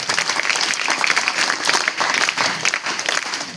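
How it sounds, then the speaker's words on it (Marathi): Loud applause from a gathered audience, rapid overlapping claps forming a thick, steady patter that swells slightly and holds for the whole stretch, close by and unaccompanied by speech. "एकदा घनश्याम दादांच्यासाठी एकदा जोरदार टाळ्या वाजवायचे"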